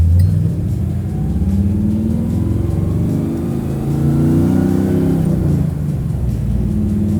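A Pro Street 1967 Chevy Nova with a turbo 400 automatic and reverse manual valve body pulls hard, its engine roaring loud and close in a deep, sustained rumble that climbs and rises through the gears without any talk.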